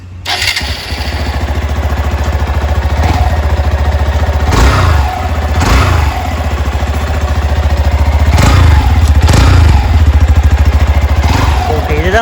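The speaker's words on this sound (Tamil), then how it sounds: "இதுதான் நம்ம ஸ்டாக் எக்ஸாஸ்டோட சவுண்டு" A Hero Xpulse 200 motorcycle with its stock exhaust idles loudly with a throbbing exhaust note, punctuated by several sharp revs that rise and fall at irregular intervals.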